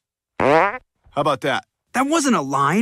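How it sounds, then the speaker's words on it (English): A loud cartoon fart in a Family Guy scene, a single long wobbling blast, set among short lines of animated dialogue. "You just farted."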